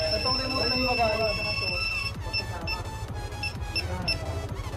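A Yamaha NMAX 2020 scooter fitted with a two-way motorcycle alarm sounds a loud, steady electronic siren with pulsing tones, while someone talks over it nearby.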